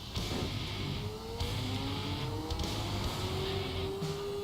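A motorcycle in Saints Row: The Third revs with a steady mid-pitched engine drone that rises gradually in pitch, moderately loud over a busy game background, no talk.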